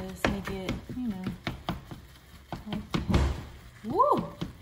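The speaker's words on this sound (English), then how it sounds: "So I'll chop all that like this." Potatoes are chopped with a knife on a cutting board in a home kitchen, a series of sharp, near thunks in uneven rhythm while a person talks.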